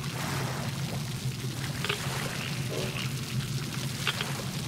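In a dark cave in the game Metro Exodus, scattered soft drips of water land over a constant low droning background, a handful of faint drops spaced irregularly.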